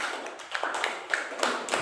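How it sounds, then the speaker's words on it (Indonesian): Applause in a classroom as a student group is acknowledged after its presentation: a short, moderately quiet patter of scattered claps with a few sharper taps standing out. "tepuk tangan untuk kelompok"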